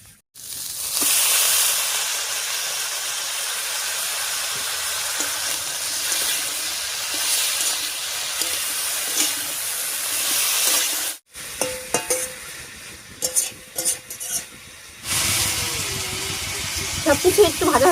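Pumpkin stalks and shoots frying in a pan for a light fish curry give a loud, steady sizzle and hiss that breaks into choppier stirring and spatter toward the end.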